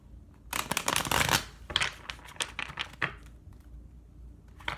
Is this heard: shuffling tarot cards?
yes